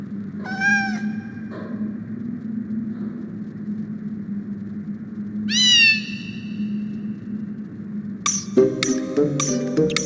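A kitten meows in the PS1 Harry Potter and the Sorcerer's Stone video game, two short distinct mews over a low game hum, followed by chiming game sound effects.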